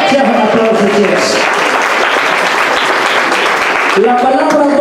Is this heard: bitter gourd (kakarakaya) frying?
no